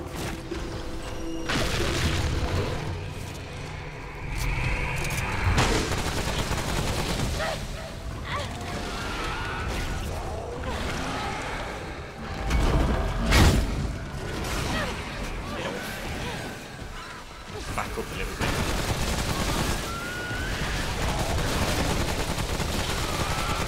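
Fire bullets discharging in the video game Remnant: From the Ashes, bursts of gunfire with heavy impacts and crashes amid busy game sound, with a voice talking over parts of it.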